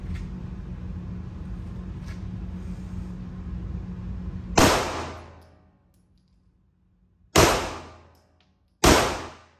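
Gunfire from a CZ-P10C pistol fitted with a Trijicon SRO red dot on a shooting range: steady noise, then three loud sharp reports at irregular intervals, each with a decaying echo, no talking.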